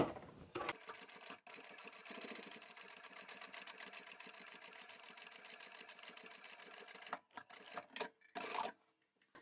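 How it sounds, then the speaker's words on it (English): A sewing machine stitches a straight seam through two pieces of hexagon fabric for a Christmas placemat, running in a steady fast rhythm for about seven seconds before stopping, with a few short clicks and handling sounds at the end. "we're just going to sew straight down that line that we've marked"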